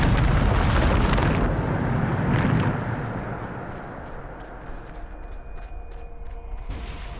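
A Bombarda spell detonates in Hogwarts Legacy with a loud, roaring blast that slowly decays, followed by faint tinkling debris and a few light clinks as it settles.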